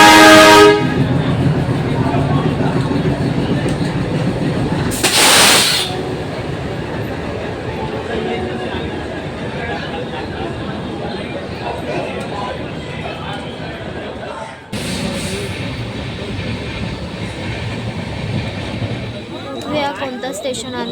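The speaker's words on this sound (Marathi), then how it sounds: "सो इथे आता आमची ट्रेन आली आहे" A passenger train pulls into a station in Maharashtra, its horn blaring loudly at the start and again around five seconds in, over a steady rumble of wheels and platform noise, with people talking nearby throughout.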